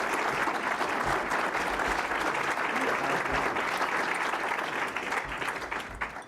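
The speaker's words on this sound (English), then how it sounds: "thank you for giving Todd a warm round of applause" An audience gives a speaker named Todd a warm round of applause after a talk on improving the Illinois business climate. The clapping is sustained, dense and even, and it tapers slightly toward the end.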